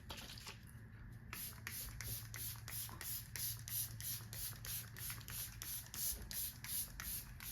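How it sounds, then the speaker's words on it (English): Setting spray is misted onto a face during drag makeup, a quick run of short hissing spritzes in steady rhythm, close and fairly quiet, with some soft handling noise and no talking. "We can use setting spray."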